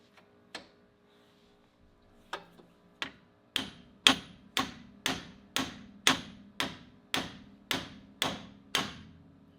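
A hammer strikes a ball joint fork on the steering of a Jeep Wrangler TJ, a few scattered metallic blows at first, then a steady run of about a dozen sharp, ringing hits close by.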